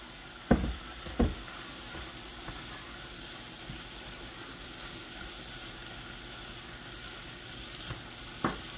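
Bell peppers fry in a pan, giving a steady close sizzle throughout, broken by a few louder clatters as they are added and stirred, with no talking.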